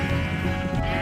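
A sheep in the video game Minecraft gives a single short, nasal bleat, loud and close, over a steady background music bed.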